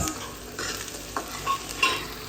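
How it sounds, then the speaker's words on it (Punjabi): Tempering for dal makhani sizzles and crackles in hot oil, with a few louder spits and pops breaking through the steady hiss. "ਦਾਲ ਮੱਖਣੀ ਜਿਹੜੀ ਆਪਾਂ ਬਣਾਉਣੇ ਆ ਉਹਨੂੰ ਲਾਉਣ ਲੱਗੇ ਆ ਤੜਕਾ"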